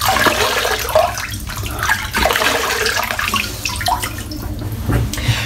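Tap water runs steadily and close while a face is wetted by hand before a shave, with splashes and small surges over the continuous flow and no talking.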